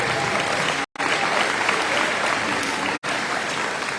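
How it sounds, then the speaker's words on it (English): Steady, loud applause from a crowd at a high school athletic banquet, honoring student athletes, with two brief dropouts in the clapping. "So give them a big round of applause."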